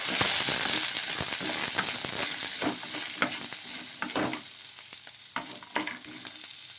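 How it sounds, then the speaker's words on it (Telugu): Steady sizzle of a sabudana mix frying with fresh coconut pieces and roasted gram, while a spoon stirs and scrapes the pan in irregular knocks and clacks, close and with no voices. "పచ్చి కొబ్బరి ముక్కలు కూడా వేసుకోవాలి అలాగే కొన్ని పుట్నాల పప్పు ఇవన్నీ కూడా వేసుకొని ఒకసారి బాగా కలిపేసుకుందాము"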